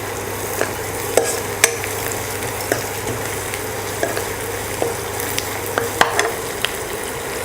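Curry leaves and onions for vada curry fry in hot oil with a constant, even sizzle, dotted by faint irregular ticks and pops as the pan is stirred.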